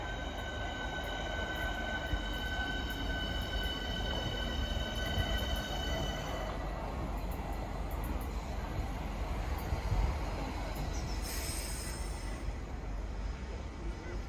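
Class 465 electric train rolling through Lewisham station, a steady distant rumble of wheels on rails with faint high squeals and tones throughout, under a continuous even roar.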